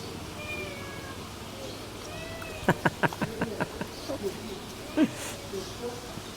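A cat meows in a quick run of short, close calls, followed by a stronger cry a moment later, with quiet background noise between them.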